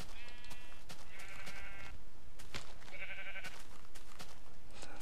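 Blocky Minecraft sheep in a Tekkit-modded game bleat loudly in several wavering calls, with sharp game sound effects between them and no talk.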